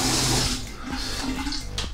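A bathroom tap runs and splashes into the sink during a wet shave with a titanium and stainless steel safety razor, loud and close at first, then settling into a softer steady trickle with a few small clatters.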